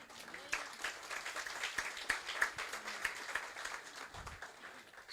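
A church congregation applauds the Lord during a sermon, scattered, fairly quiet clapping with distinct individual claps sounding from a distance, a few sharper hits standing out, and faint voices mixed in.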